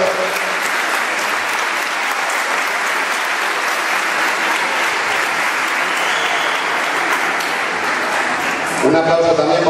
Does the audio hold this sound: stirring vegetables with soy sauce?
no